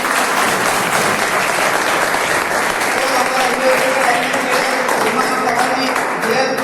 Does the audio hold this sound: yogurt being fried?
no